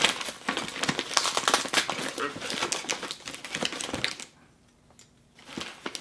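Crinkling and tearing of packaging as a package holding an EnGenius Wi-Fi 6 access point is unwrapped up close, a busy run of rustles that drops to near silence toward the end before resuming faintly.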